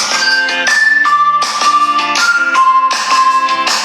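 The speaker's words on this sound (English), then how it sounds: "I'm going to go ahead and pick the song that we're playing today" A bright melodic song plays loudly and steadily, with sustained high tones shifting every half second or so over a chiming accompaniment.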